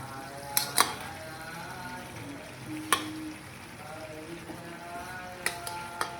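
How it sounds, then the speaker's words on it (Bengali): Boiled pasta goes into a pan of gravy and is stirred, giving a soft continuous sizzle and frying hiss, with occasional light clinks of a utensil against the pan. "এরপর আমরা সেদ্ধ করে রাখা পাস্তাটা এর মধ্যে দিয়ে দেবো"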